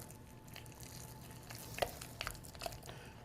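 Rock-colored paint being stirred into wet papier-mache, a soft, moist squelching and scraping texture with a few small clicks of the tool, quiet and close with no talking.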